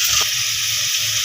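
Mutton with tomatoes, salt and mixed spices sizzles and fries in a pan, a loud, steady hiss held close up with faint stirring thumps underneath.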